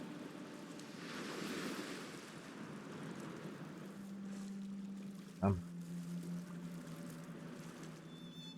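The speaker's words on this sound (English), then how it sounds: "Fucking ocean." Ocean surf washes steadily through a video game scene, a continuous broad rush of waves and wind, with a brief louder thud partway through and no speech.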